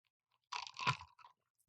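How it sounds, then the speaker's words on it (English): Ice from a bourbon and coke being crunched between the teeth, close and dry, one burst of crunchy chewing for about a second, then a quick final crack after a pause. "Crunch on a little bit of ice there."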